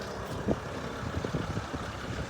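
A VW T4 van with a 2.5 TDI diesel engine drives off outdoors, a low, rough, fairly distant engine rumble mixed with wind noise, brief and without talk.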